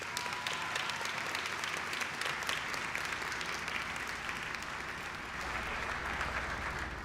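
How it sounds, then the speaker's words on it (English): At a student academic excellence awards ceremony, the audience applauds the honorees with steady, sustained clapping from many hands, moderately distant and even throughout, with no talking over it. "Let's give a round of applause."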